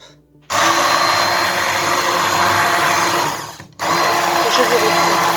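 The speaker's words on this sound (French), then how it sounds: "je vais utiliser mon mixeur plongeant" Immersion blender whirring steadily through a cooked vegetable velouté, loud and close, running continuously with one brief pause before starting up again.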